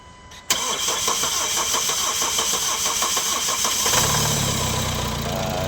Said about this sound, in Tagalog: Andar yung starter Gabino ba